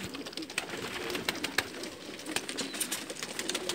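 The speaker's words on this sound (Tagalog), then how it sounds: "papakita ko sa inyo yung kalapati." Pigeons coo softly and repeatedly in a coop in Saudi Arabia, with a light wash of background noise and a few faint flutters.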